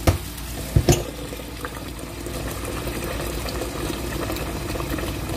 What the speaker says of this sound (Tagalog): kailangan ko siyang kukuluan